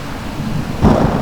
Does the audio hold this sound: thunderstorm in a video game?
yes